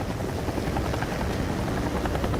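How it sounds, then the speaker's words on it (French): A firefighting helicopter flies steadily, its rotor chop a dense, continuous rumble at even loudness from start to finish with no voices over it. "Un hélicoptère de lutte contre l'incendie est toujours utilisé lorsque le feu est très difficile à atteindre"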